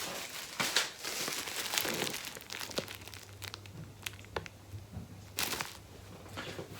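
Plastic film is handled and spread out by hand to make a DIY photography background. Close crinkling and rustling carry on throughout, with a few sharper crackles and a low steady hum underneath.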